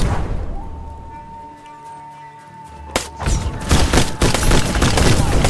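A fast-firing rifle in the video game Black Skylands lets off a burst of rapid shots, loud and close, after a short lull with a sustained tonal hum.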